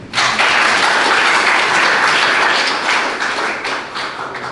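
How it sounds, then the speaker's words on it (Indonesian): Loud, dense audience applause at a church service, a continuous burst of many hands clapping that rises quickly, holds steady, then thins out slightly toward the end. "Tepuk tangan."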